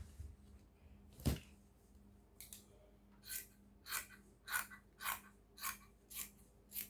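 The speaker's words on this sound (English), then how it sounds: "So first of all, I'm going to cut this out." Scissors snip through fabric while cutting out an A-line gown's sleeve pattern, several crisp close cuts in a steady rhythm after one sharp initial snap.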